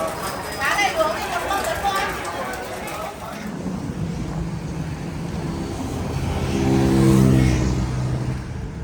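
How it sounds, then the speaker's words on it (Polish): A taxi in Dong Hoi, Vietnam, driving with a steady engine hum that rises toward the end. People talk over the engine in the first half. "A tutaj jadę w taksówce"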